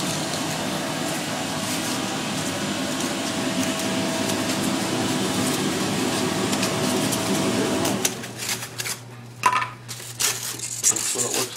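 A shop vac drones loudly and steadily beside a hot wire table, then cuts off and gives way to quieter clatter and a low hum.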